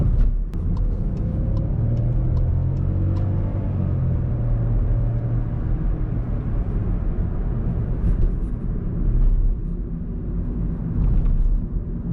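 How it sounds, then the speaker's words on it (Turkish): Skoda Fabia 1.0 TSI DSG three-cylinder engine under load while driving, a steady gravelly low rumble with rising revs heard from inside the car, continuous and fairly loud. "Ne zaman ki böyle gazı yükleniyorsunuz o zaman o hırıltılı 3 silindir gelmeye başlıyor arkadaşlar"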